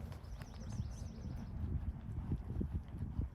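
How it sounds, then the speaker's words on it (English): A horse's hooves clip-clop in a steady walking rhythm, fairly faint and close, with no talking. "that is a horse walk."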